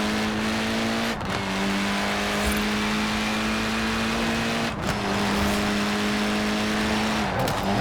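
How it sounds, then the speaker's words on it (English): A turbo rally car engine in a racing video game gives a steady drone with a constant pitch, broken by a few brief dips where the note drops and picks up again, loud and close. "it has the turbo rally engine in. Because it's got it makes a great noise"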